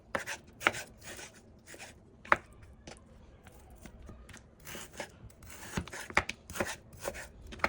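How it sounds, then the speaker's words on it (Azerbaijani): Chicken breast meat chopped with a knife into cubes, an irregular series of sharp taps against a cutting board, fairly quiet and close, with no talk. "Mən burada toyuğun döş ətindən istifadə edirəm. Birinci bunları belə formada doğrayırıq."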